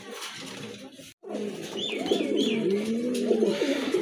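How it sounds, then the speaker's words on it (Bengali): A pair of pigeons coo close by, with rolling, throaty calls repeating after a brief silence and a few higher chirps overhead. "মাশাআল্লাহ খুবই সুন্দর এক জোড়া কবুতর।"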